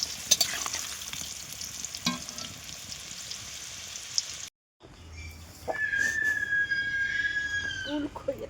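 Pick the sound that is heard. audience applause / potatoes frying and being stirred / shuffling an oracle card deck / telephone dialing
potatoes frying and being stirred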